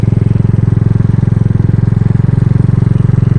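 A 2018 Tao Tao Racer small motorcycle with an upgraded CDI module revs hard from a stop, a loud, rapid, evenly pulsing engine drone close to the rider.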